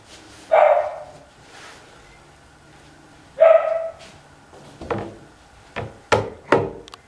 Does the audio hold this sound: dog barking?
yes